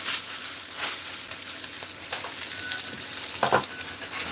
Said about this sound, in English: With the grease spattering, especially in the oven.